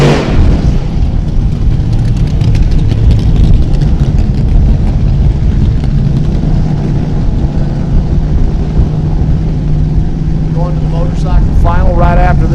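An injected drag racing engine at a drag strip runs with a loud, steady, rough roar throughout, staying close and constant with a few sharper bursts near the end.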